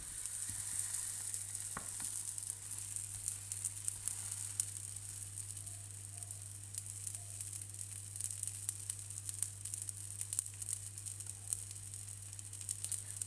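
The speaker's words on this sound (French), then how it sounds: "on les tourne et on le retourne jusqu'à ce que ça soit bien doré des deux côtés" A savory crêpe cooks in a pan until golden on both sides, giving a steady soft sizzle with a faint frying hiss throughout, close and fairly quiet, with a constant low hum underneath and no talking.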